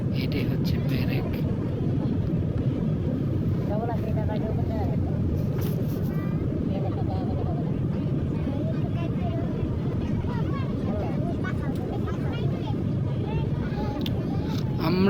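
Inside an airplane descending to land at Hazrat Shahjalal Airport, a steady low cabin roar of engines and airflow runs throughout, loud and unbroken, with a voice talking over it.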